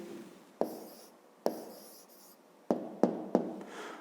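A pen writes on paper while solving a fifth-grade math problem, giving five sharp scratchy strokes with short pauses between them, close to the microphone, with no talk over them.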